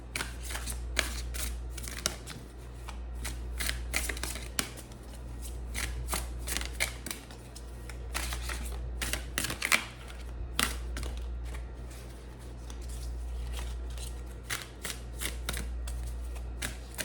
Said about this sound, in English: I'm just gonna pull one more of these cards.